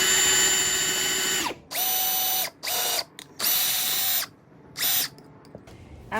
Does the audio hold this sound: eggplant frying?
no